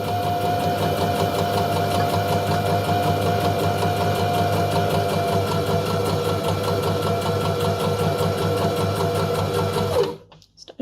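A sewing machine runs a steady, loud straight stitch around a fabric pumpkin, humming continuously for about ten seconds before stopping abruptly.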